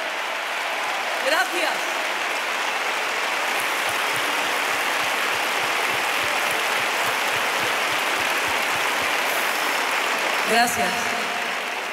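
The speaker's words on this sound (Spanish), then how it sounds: "ese fuerte aplauso para este maravilloso coro" A concert audience in Seville gives a long, loud, steady round of applause for the choir of the Orquesta Sinfónica Hispalense at a show, while a voice briefly says thanks over the clapping.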